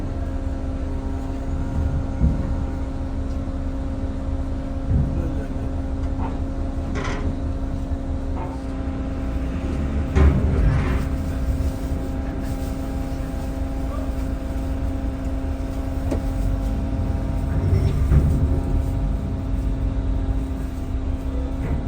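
Vehicles roll off a ferry's open door in a steady, loud low engine drone with a constant hum, broken by occasional revs and clunks as cars move off the ship.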